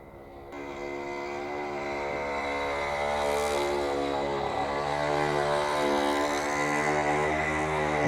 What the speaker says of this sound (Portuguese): deixa eu esperar passar a moto.